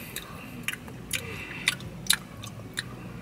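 Chewing of fried, crispy battered fish from Joe's Crab Shack, soft wet mouth sounds with a few sharper crunchy bites heard close up over a steady background hum.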